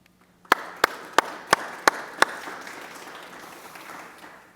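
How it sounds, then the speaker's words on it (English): A conference audience claps for the Remix El Barrio team: six sharp, evenly spaced claps stand out up front, followed by a soft, fading wash of scattered applause. "So please give the team of Remix El Barrio again a warm applause."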